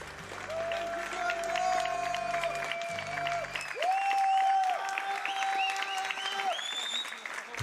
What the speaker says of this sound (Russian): Аплодисменты такие.